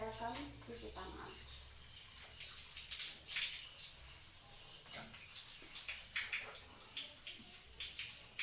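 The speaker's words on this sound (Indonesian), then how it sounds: "saya akan cuci tangan" Hands being washed under a running tap: a fairly faint, uneven splashing and trickling water sound with soft rubbing and drips, continuous throughout, with no clear voice.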